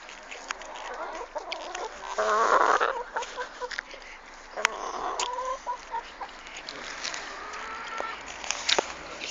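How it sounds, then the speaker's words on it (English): Backyard chickens clucking and murmuring while pecking at sweets, a steady low chatter of fowl calls at moderate distance with occasional sharper squawks and scattered handling noises, and no clear talk. "I'm going to be videoing my chickens eating sweets."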